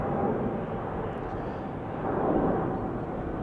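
An airplane takes off at Amsterdam Schiphol Airport as a broad, steady jet roar, moderately distant and sustained, swelling slightly toward the end, heard without voices.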